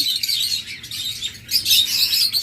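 A breeding pair of red-eyed Lutino Fischer's lovebirds chirps in quick, high, overlapping tweets, close and fairly loud, in steady bursts with no talk.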